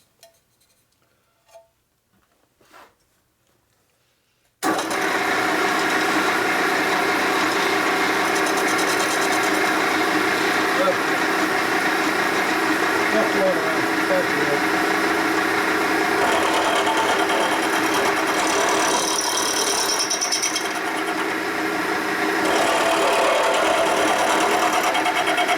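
A power tool cuts through a metal plate during a Harley FXR Twin Cam conversion build, starting abruptly after a few quiet seconds with faint taps, then a loud, continuous grinding whine that runs steadily to the end.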